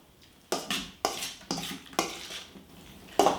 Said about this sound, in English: We're going to just get a little bit of this sauce. Pop it over there. That's probably enough. And give that a little bit of a mix.